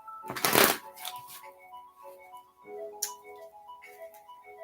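A deck of tarot cards is shuffled, a loud burst of riffling and flicking up close, then a few softer card snaps over steady background music.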